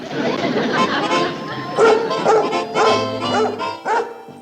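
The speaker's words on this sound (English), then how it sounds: "This sounds like the bark of a happy dog." A dog barks several times in quick, lively yips, close up, with some voices talking over and around the barks.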